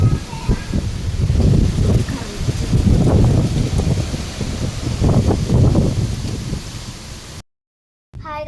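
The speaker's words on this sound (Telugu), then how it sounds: "రెయిన్ కాదు, గాలి." Strong wind blowing during a storm, a loud steady rushing roar with gusty surges that continues for several seconds, then cuts out briefly before returning.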